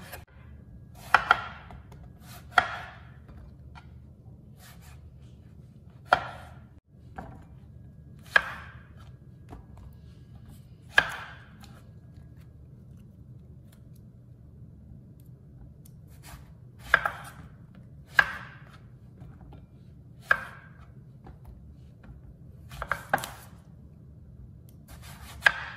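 Eggplant is chopped on a cutting board for pork binagoongan, about a dozen sharp, separate knife strikes spaced irregularly over quiet room background.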